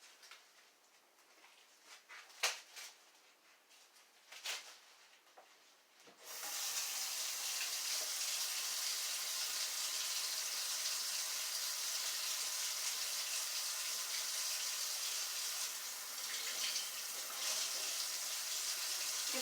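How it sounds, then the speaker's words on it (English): Tap water runs steadily into a sink to rinse stewing beef for a crockpot stew, a loud, continuous gushing hiss that starts abruptly after a few quiet seconds marked by faint kitchen clatter, then continues without a break. "I'm going to start by rinsing my stewing beef."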